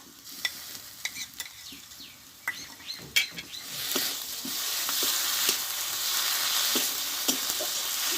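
Chicken cooks in a pan with garlic, cumin and dry red chilli pastes, with sharp spatula clinks and scrapes at first, then the sizzle of frying swells into a steady hiss under continued stirring.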